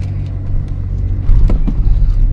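A 2012 Audi Q7 diesel engine running just after a service, a low, steady rumbling idle heard close by, with a couple of faint clicks partway through.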